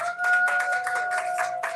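A modest audience claps at a speaker-series event, giving a short run of distinct, slightly uneven claps over a steady electrical hum as a speaker is welcomed to the stage.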